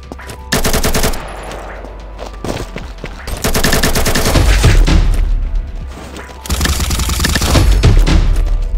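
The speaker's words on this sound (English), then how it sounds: "So it's like an AR with a really big drum mag." Automatic rifle with a big drum magazine firing in the shooter game Combat Master: loud, close bursts of rapid gunfire in three long volleys separated by brief pauses, with heavy booming impacts.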